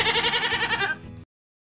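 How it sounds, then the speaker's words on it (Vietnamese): A goat gives one loud, close, wavering bleat with a trembling vibrato, lasting just over a second before stopping abruptly into silence. "Con dê."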